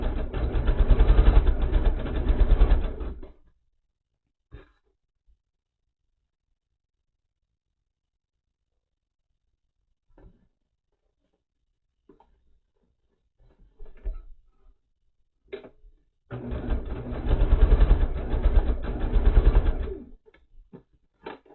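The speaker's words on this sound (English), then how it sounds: "I am going to go ahead and start stitching these little" A sewing machine stitches small white quilt squares for a Christmas star block, running in two separate bursts with a few faint clicks and handling noises in the quiet gap between them.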